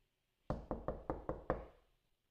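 Six quick knocks on a door in a steady rhythm, close and distinct, as a plumber arrives, with silence before and after.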